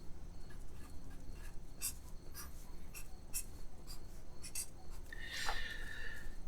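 A pen draws an electronic schematic on paper with a series of short, quiet scratching strokes in an uneven rhythm. A brighter squeak comes near the end.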